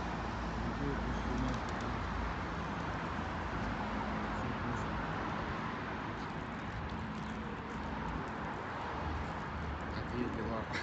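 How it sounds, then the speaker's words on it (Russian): Pigeons coo softly outdoors amid a constant low wash of ambient noise, with faint voices murmuring in the background. "Голуби собрались, слушай."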